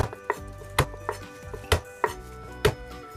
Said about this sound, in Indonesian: Nah, ini bawang merah saya cincangnya asal-asalan aja.